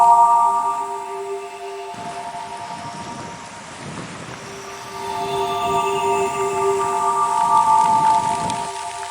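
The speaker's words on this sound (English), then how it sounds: "The rain finally caught up with us." Rain falls on a coastal walk along the South Tyneside shore, a soft steady patter under a sustained tonal hum, fairly close and continuous without speech.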